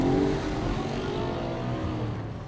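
A 2013 Audi RS4 Avant V8 held at about 3,000 RPM on launch control, a steady loud burbling rev close by with a slight rise and fall, no talking.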